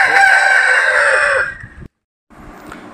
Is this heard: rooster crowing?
yes